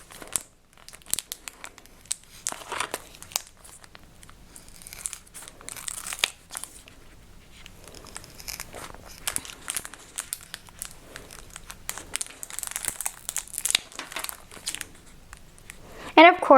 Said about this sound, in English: all we're doing is cutting around our decal